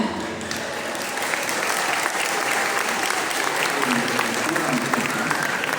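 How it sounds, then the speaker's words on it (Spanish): A school audience in Catemaco gives loud, sustained applause for secondary and high school students about to perform a shadow theatre play, a thick, continuous clapping that fills the hall with faint crowd voices mixed in. "Recibamos con un fuerte aplauso a los alumnos que hoy nos presentan la obra El Mictlán."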